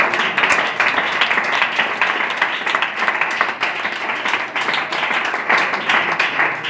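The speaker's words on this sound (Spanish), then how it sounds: "¿Puedes aplaudirle al Señor?" A church congregation claps and applauds together, a dense, steady wash of hand claps lasting several seconds with slight swells, moderately loud and filling the room, with faint voices mixed in.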